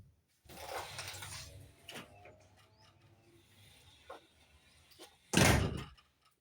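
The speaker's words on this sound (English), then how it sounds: "you guys heard my sliding door, right?" A sliding door at home rolls open with a scraping rumble, then after a quiet stretch of soft knocks it slides again more loudly and abruptly, close by, with nobody talking.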